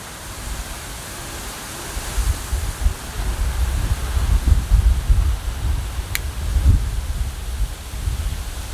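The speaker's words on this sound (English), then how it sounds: "It is really windy in my new location." Strong wind buffets the microphone in low, rumbling gusts that swell and fade, a steady rushing roar outdoors with no voices.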